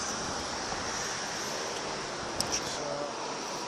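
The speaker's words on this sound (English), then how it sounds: "I'm going to go check out this waterfall here." A waterfall rushes with a steady, dense roar that stays even and fairly loud throughout, with a brief faint click partway through.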